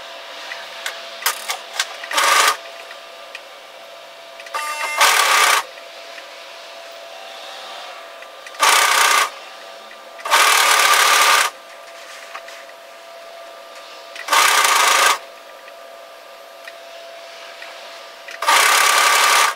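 A sewing machine stitches the underarm seam of a cardigan in six short, loud mechanical bursts separated by quiet pauses.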